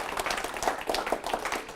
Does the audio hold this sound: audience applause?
yes